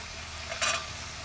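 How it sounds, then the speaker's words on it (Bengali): Soaked dried peas, left overnight and not boiled, being stirred and fried in a pan for a vegetable dish: a soft steady sizzle with one brief louder scraping stir in the middle. "এই মটরটা দেওয়ার পরে আবার কিছুক্ষণ নেড়ে চেড়ে ভেজে নেব"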